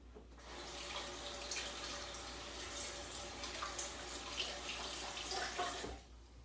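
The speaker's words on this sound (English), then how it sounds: "I'm gonna wash my hands." A kitchen faucet runs steadily while hands are washed under it, a close, continuous splashing hiss lasting several seconds before it cuts off abruptly.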